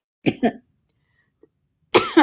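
Two quick coughs sound up close, followed by silence and then another harsh cough or throat-clearing burst at the end.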